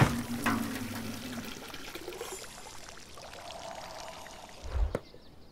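Water pours and splashes into a bucket in a point-and-click adventure game, a steady filling rush that fades near the end before a short thud.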